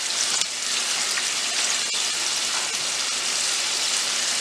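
Mushrooms, onions and other vegetables sizzle steadily in a pan while caramelizing, a dense, even hiss that holds at constant loudness from start to finish.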